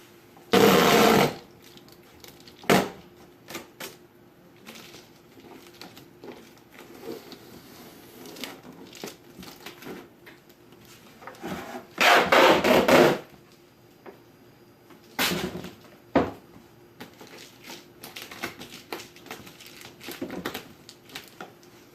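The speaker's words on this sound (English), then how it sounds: "we're going to tape up this insulation to the shaft" Duct tape is torn and pulled in several loud bursts while insulation is taped onto the wooden shaft of a homemade seed-starting shelf, with quieter rustling and handling between strips.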